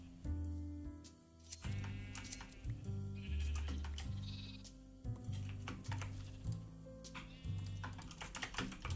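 Video game sheep in a Minecraft-style world bleat several times, mixed with steady computer keyboard typing and clicking, all fairly quiet.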